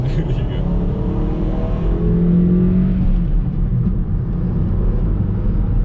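A 2009 Mazda 6 with a 2.5-litre engine and six-speed manual gearbox drones steadily from inside the cabin while driving, a constant low rumble beneath voices talking.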